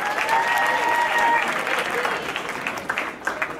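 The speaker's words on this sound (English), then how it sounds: "we need to give a round of applause to El Safan's dad" A crowd at a poetry event in a Nairobi hotel applauds loudly and continuously, dense clapping with a few whistle-like tones early on, thinning slightly toward the end.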